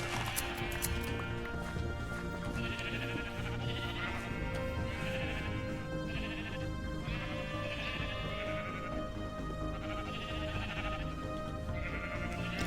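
Several sheep in the game Minecraft bleat repeatedly in soft, evenly spaced calls over a constant background hum, faint and without talk.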